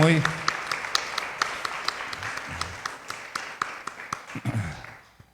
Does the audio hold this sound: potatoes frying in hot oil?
no